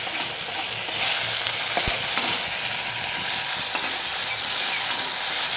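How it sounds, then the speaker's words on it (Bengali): Ginger-garlic paste fries in a pan with a steady, close hiss and crackle, broken by a few soft scrapes and taps as it is stirred; no voices. "আদা রসুনের পেস্ট আমি দিয়ে দেবো হাফ চামচ করে। নাড়তে থাকবো"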